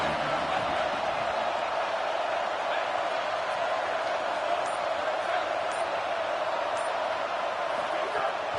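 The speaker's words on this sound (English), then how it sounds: "This crowd ready to make its presence known." A large college football stadium crowd at a Washington versus South Carolina game keeps up a steady, dense roar that stays loud and unbroken throughout, with no distinct cheers or voices standing out.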